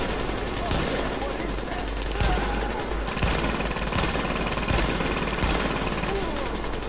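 Continuous automatic weapon fire from a team firefight in the video game The Division, dense rapid bursts with sharper individual shots punctuating a loud, sustained barrage.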